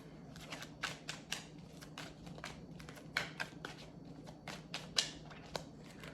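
Soft, rapid riffling of tarot cards being shuffled, a continuous papery flutter with small repeated snaps, fairly quiet and close.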